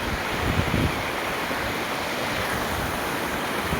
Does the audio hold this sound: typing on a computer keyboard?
no